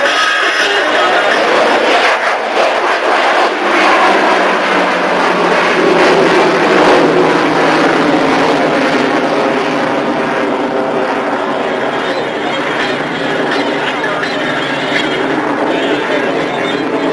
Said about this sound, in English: Bud will be rolling the F-14 into an 80-degree angle of bank, will override the computer